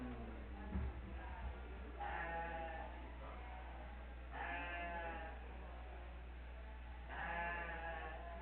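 A ewe lamb bleating at a livestock auction, heard as three drawn-out bleats spaced a couple of seconds apart over a steady low hum, fairly faint and with no talk.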